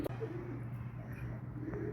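Pigeons kept indoors in a loft coo softly, a low, throaty murmur running steadily under faint background noise.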